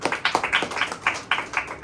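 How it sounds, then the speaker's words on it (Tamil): A church congregation claps hands in a quick, even rhythm, about a dozen sharp claps in under two seconds, close and moderately loud with no talk. "கைத்தட்டி ஆண்டவரை மகிமைப்படுத்துவோம்"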